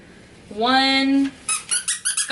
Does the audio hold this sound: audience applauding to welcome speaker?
no